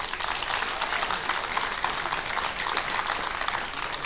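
Audience applause for seniors at a high school sports awards assembly, a sustained even wash of clapping from a crowd that carries on without a break.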